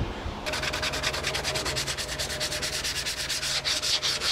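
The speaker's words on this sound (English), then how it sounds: "there's a tremendous amount of sanding going into this" Rapid, rhythmic back-and-forth sanding strokes on a Yamaha FZR motorcycle fairing rasp steadily and close up, with a low motor hum underneath throughout.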